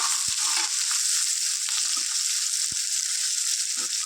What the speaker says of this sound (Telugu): ఇవి ఫ్రై చేసుకుందాం ఆనియన్స్ ఉన్న మిర్చి